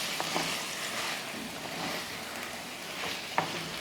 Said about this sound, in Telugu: అప్పుడు మనం ఈ ముక్కలు వేసిన తర్వాత మనం ఇలాగా కలుపుకోవాలి